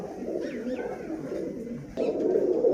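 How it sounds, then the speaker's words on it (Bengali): A female pigeon coos nearby in soft rolling calls, against a steady murmur that grows louder toward the end. "এটা মাদি পায়রা মাদি পায়রা"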